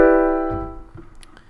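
A single ninth chord built from stacked third, fifth, seventh and ninth rings out clearly, then decays steadily to near silence, with a few faint soft knocks afterward.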